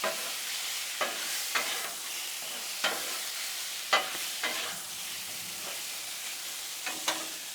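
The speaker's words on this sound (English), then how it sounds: "That bacon grease, this island stir fry, all this on the griddle." Hawaiian teriyaki chicken stir fry sizzling in bacon grease on a griddle, a steady close hiss broken by sharp spatula scrapes and taps every second or so, with no voices.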